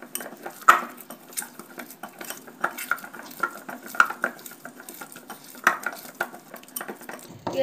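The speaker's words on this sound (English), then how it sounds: "You have to mix the dough properly like this." Chiroti dough mixed by hand in a bowl with a little oil, giving soft, irregular scraping, slapping and clinking sounds close up, with no talking.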